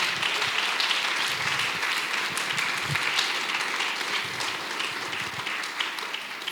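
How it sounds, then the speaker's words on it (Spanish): A church congregation at a Spanish-language service in Homestead claps together in sustained, dense applause that stays even in loudness for several seconds. "Dele un aplauso a Jesucristo."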